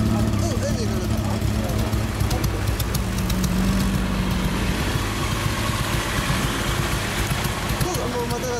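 Motorcycle fitted with an aftermarket muffler idles steadily with a low, burbling rumble throughout, while people chat nearby.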